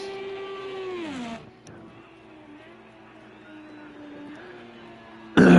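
A race car in an Indy 500 race in Project CARS 2 winds down through its gears, its engine whine falling sharply in pitch, then holds a steadier drone that rises again. A loud burst cuts in at the end.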